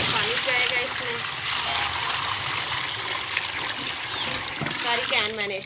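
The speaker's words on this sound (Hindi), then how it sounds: "पानी जाएगा इसमें" Water pours and splashes into a container for homemade lemon water, a continuous gushing trickle at moderate volume throughout.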